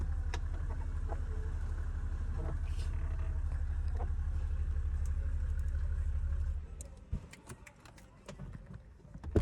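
A Mercedes-Benz W140 S350 diesel idles with a steady low rumble for about six seconds, then cuts off, leaving a few knocks and faint talk.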